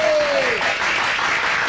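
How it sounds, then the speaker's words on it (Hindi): Short burst of dense crowd applause, steady and fairly loud throughout, with a brief voice at the start. "बजाओ ताली।"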